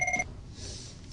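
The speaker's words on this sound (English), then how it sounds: "My phone is ringing." A phone rings with a short electronic tone that stops after a fraction of a second, leaving quiet room hiss.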